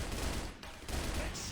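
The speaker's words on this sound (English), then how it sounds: "they're the ones getting bombarded with nades and gunshots" Dense gunfire and grenade blasts in a CrossFire competitive match fill the clip as a loud, continuous wash of overlapping shots and explosions, with a brief dip midway.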